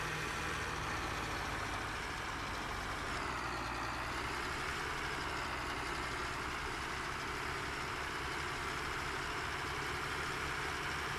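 A John Deere tractor in Farming Simulator 17 drones continuously while struggling to pull a plow, a dense, even engine noise that holds steady throughout with no talk.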